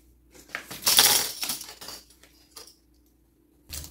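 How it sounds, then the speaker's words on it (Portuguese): Metal sewing clips are snapped onto a fabric pouch with a folded zipper, a short run of light clicks and clinks close by, then quiet before one more click. "E aqui eu tenho que clipar."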